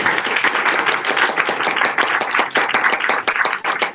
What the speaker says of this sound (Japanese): 拍手を